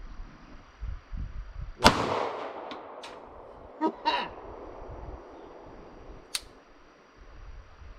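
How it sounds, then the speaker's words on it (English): A single sharp firearm shot during a basic shooting lesson at a cabin, loud and close with a ringing tail, followed by a few fainter clicks and knocks, and quiet low murmur before it. "slowly, carefully find the wall before you break a shot"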